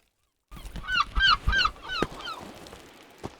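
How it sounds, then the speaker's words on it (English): Seagulls crying in the climbing video game Peaks of Yore, several harsh squawking calls in a quick cluster, close and fairly loud, then trailing off with a couple of thumps. "seagulls in this game have a deep hatred for anything relaxing"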